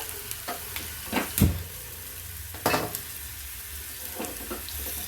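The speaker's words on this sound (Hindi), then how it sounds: "तेल में इसलिए डालेंगे थोड़ा कच्चापन निकल जाए आदू लहसुन का।" Ginger garlic paste frying in hot oil for palak paneer, a low sizzle under sparse stirring scrapes and a few louder clanks of a spoon against the pan; no talking.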